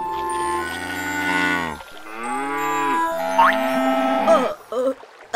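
White cow lowing in a Vietnamese 3D animated film, one long loud close moo with rising and falling tone, then shorter trailing sounds at the end.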